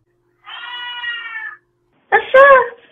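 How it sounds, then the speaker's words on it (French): A cat meows twice, first a long, even, drawn-out call, then after a pause a sharper, louder, wavering meow, close and clear against silence. "Et il laissa échapper un miaulement."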